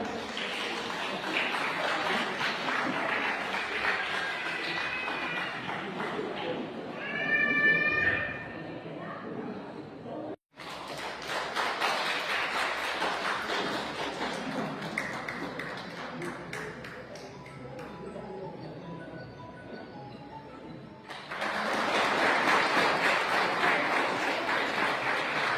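Audience applause in a hall, sustained clapping from a crowd that swells and fades across the stretch, with a brief gap and voices mixed in beneath.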